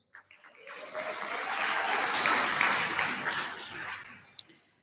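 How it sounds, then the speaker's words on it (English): An audience gives a big round of applause at a Kathak dance debut performance, swelling quickly into a dense, sustained wash of clapping that holds steady, then fades with a few last claps at the end. "So a big round of applause for you,"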